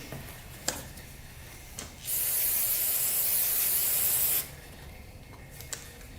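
Carburetor cleaner is sprayed into the carburetor of a Yamaha Warrior 350 in one continuous, close, loud hissing burst of about two seconds, framed by quieter clicks and handling noises.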